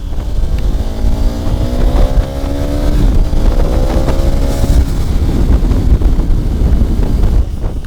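A 2015 KTM 1290 Super Adventure motorcycle pulls hard in second gear, its engine note climbing in rising sweeps under heavy, steady wind roar from riding at speed.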